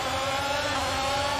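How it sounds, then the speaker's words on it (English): Simulated F1 car engine from F1 22, held at high revs on the grid before a race start in Bahrain, a steady sustained buzzing drone throughout with no pauses. "Let's build the revs up and hold them."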